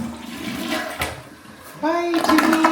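A household toilet flushing in a home bathroom, a rushing surge of water that swells at the end with a steady filling hiss, with some background chatter and movement before it.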